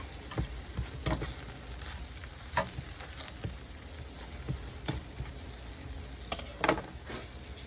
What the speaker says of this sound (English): So you just wanna toast your sourdough bread.